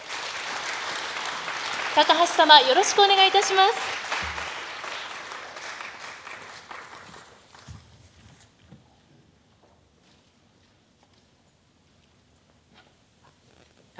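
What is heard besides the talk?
audience applause welcoming a speaker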